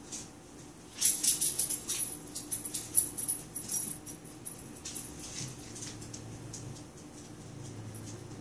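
A dog whimpers in a quiet room, a run of soft, close whines clustered in the first few seconds, then fading into low background noise; no one speaks.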